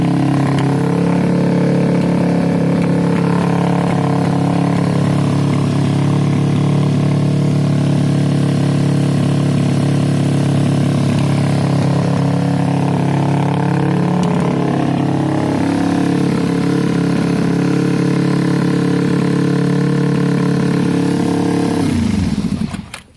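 A Kawasaki cafe racer motorcycle engine running at a high, steady idle with the choke off, loud and close through its exhaust, a dense continuous drone that holds for over twenty seconds before cutting off abruptly at the end.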